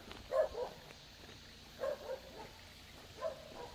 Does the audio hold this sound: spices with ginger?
no